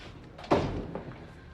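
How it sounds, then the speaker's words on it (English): A door is shut indoors with a single soft thud, followed by a faint lighter knock and quiet room noise, with no talk. "Shut the door."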